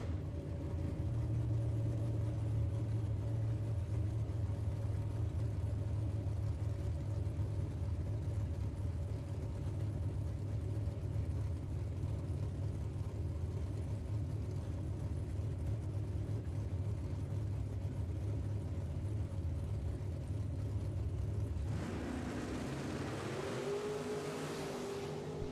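A Chevy II and a Ford Mustang at a drag racing shootout: a steady, loud, deep engine rumble holds for most of the run, then shifts abruptly into a rising, higher whine near the end.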